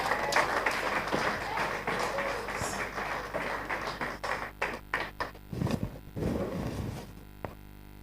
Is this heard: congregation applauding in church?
yes